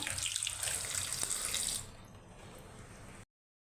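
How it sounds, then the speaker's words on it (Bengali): Tap water runs steadily into a sink while gourd leaves are washed, a close rushing stream that softens partway through before stopping abruptly. "সুন্দরভাবে এই পাতাগুলো আমি ধুয়ে নেব"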